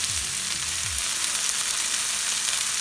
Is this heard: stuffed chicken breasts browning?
yes